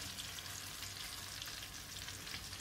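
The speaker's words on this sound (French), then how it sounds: "on va les saisir de chaque côté pendant 2-3 minutes" Endives searing in a frying pan with sugar sprinkled over them, giving a steady, even sizzle of hot fat throughout with no talking.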